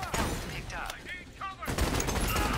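Gunfire from enemies in the mixed reality shooter Spatial Ops, played indoors in a bedroom: bursts of shots scattered through the clip, mixed with game effects and a voice talking over them.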